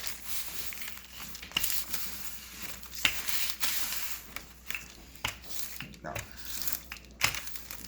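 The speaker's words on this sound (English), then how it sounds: "I'd rather put it on parchment paper because at least with parchment paper it won't stick." Parchment paper crinkles and rustles as a butter pie crust is laid out for a blueberry crumb pie, with a run of close, dry crackling bursts and sharp crumples scattered over about eight seconds and bits of talk in between.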